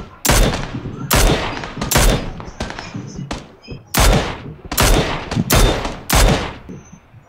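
Gunfire in the video game PUBG: a rapid run of loud, sharp shots and bursts, some clustered and some spaced apart, with a voice briefly audible underneath.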